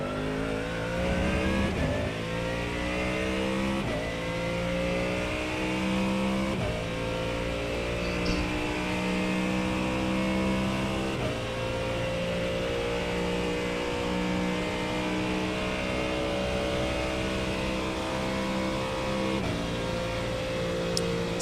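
A Mustang GT race car engine revs hard in the iRacing simulator, climbing through repeated gear changes at speed on track, loud and continuous with no talk.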